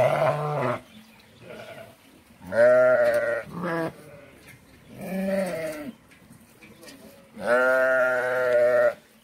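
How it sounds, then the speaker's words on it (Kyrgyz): Purebred Hissar sheep bleat in repeated loud, drawn-out calls, several cries spaced a second or two apart with quiet gaps between them, close by. "Мына ошол кисар соолук койлор, булар таза кандуу кисарлар."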